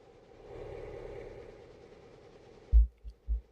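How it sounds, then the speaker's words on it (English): Passenger train in the video game Railroader heard as a low, steady rumble and hum that swells and fades, followed by a few sharp, heavy thumps near the end. "I can hear a passenger train coming."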